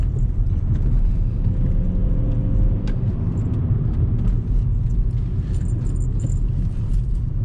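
A Volkswagen Jetta takes a curve on a badly broken road, its cabin filled with a steady low road rumble and faint rattles and knocks from the rough surface.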